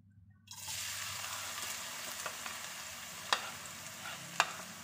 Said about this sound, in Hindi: अब इसे पका लेते हैं अब डालते हैं इसमें सबसे पहले प्याज